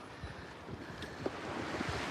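Low rumbling engine and water noise with gusty wind buffeting, a steady wash of waves and churn as a ferry moves off nearby.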